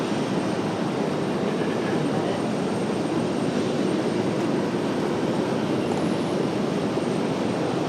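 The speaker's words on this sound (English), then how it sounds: "TBM coming around now." A TBM turboprop taxiing at RDU airport gives a steady, loud broadband engine roar with a propeller drone that holds evenly throughout, with no talking.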